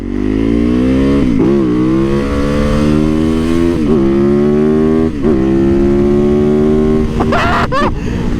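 Harley-Davidson motorcycle engine, loud and close, a deep steady drone that dips and rises with several gear shifts and throttle blips over about eight seconds.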